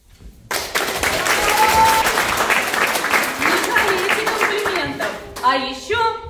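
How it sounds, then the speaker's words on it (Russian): Audience applause and clapping for a kindergarten preparatory group's children's performance at a March 8 celebration. The applause is loud and sustained for about five seconds, then fades as a voice and music come in. "А еще аплодисментов."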